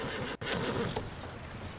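Horse whinny from Red Dead Redemption 2, a wild red chestnut Arabian, a loud close neigh filling the short clip with faint hoof clops and game ambience.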